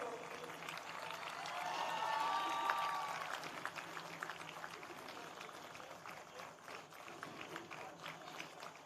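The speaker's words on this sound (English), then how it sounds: "Let's clap as hard as possible." An audience at a university convocation ceremony in Ahmedabad claps in a sustained, distant wash of applause that swells briefly and then settles, with faint voices beneath it.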